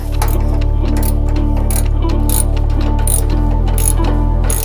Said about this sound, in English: I'm going to use a 19mm socket on this particular machine to make that adjustment